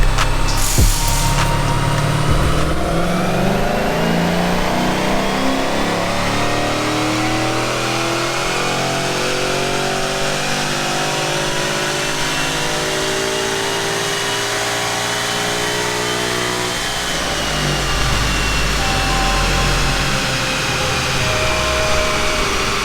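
A 2011 Mustang GT engine revs through a full pull on a dyno, rising steadily in pitch for roughly fifteen seconds before dropping back to idle; loud and close, with no talking.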